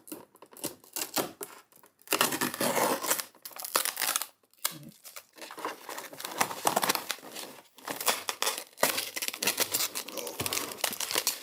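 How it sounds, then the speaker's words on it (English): Plastic protective film peeled off an LED panel on a Sunlu AMS filament dryer, giving loud close crackling and crinkling in bursts with short pauses between pulls. "I was taking the LED panel plastic off as well"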